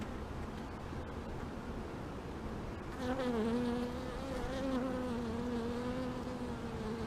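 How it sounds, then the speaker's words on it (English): Honey bees drone around an open beehive, a low hum that swells loudly near the microphone partway through as a bee buzzes close, with a soft background of other bees. "These are bees cleaning another bee."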